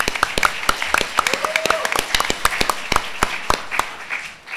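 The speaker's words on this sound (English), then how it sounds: "let's have a warm round of applause for Mr." An audience at a VR expo storytelling session applauds a speaker, with crisp, steady clapping from a crowd continuing for several seconds, fairly close, fading slightly at the end.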